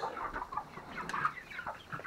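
Chickens clucking inside a coop, a steady run of close, overlapping clucks and short calls filling the whole stretch.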